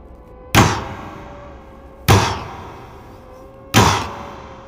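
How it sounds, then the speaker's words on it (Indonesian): Horror sound effect of a ghost banging on a car window: three loud, sharp thuds spaced about one and a half seconds apart, each with a short ringing decay, alone without talk. "Perlahan kaca pintu mobil di samping Randy berbunyi."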